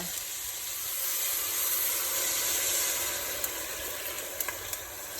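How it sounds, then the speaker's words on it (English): Five cups of water go into a pot for white bean and kale soup, a steady soft hissing rush that swells in the middle, with a few small clinks near the end. "pouring in 5 cups of water"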